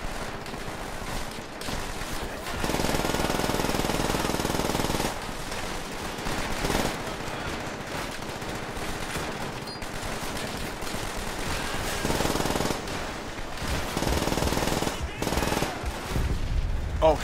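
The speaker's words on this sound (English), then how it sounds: "I'm just shooting all my friends." Sustained gunfire from a World War II shooter, Call of Duty: World at War, with dense rapid automatic bursts, loud and continuous for long stretches, broken by short pauses and scattered single shots.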